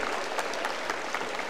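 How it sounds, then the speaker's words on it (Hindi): Audience at a school achievement ceremony applauding the children, a dense, steady wash of many hands clapping throughout, fairly distant and even. "हंसते रहिए, मुस्कुराते रहिए और उपलब्धियों से भरे इन बच्चों के लिए जोरदार तालियां"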